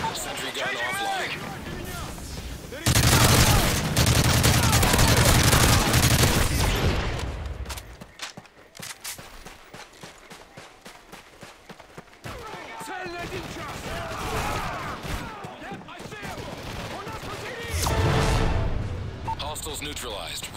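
Heavy gunfire rattles around a sentry gun in Modern Warfare 3 survival mode, loud sustained bursts giving way to scattered shots and then another intense volley, with voices calling out in between.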